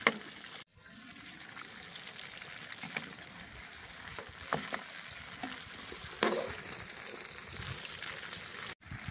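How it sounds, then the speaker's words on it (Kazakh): Meat fries in a kazan over a campfire, giving a soft, continuous sizzle with occasional stirring and a few crackles, fairly quiet and close, with no voices. "Етімізді салғаннан кейін осылай жақсылап етті бір қуырып аламыз."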